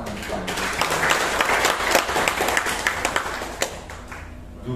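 Audience applause at an indoor gathering, a dense burst of many hands clapping that builds and then thins out toward the end, with a few isolated claps.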